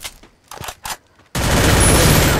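Sniper gunfire in a shooting video game: after a few quiet, sparse sounds, a loud sustained burst of shots erupts and continues to the end.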